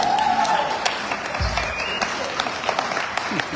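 Concert audience in Toronto applauds a singer's live performance, a dense, steady wash of many hands clapping throughout, with a brief low thump partway through.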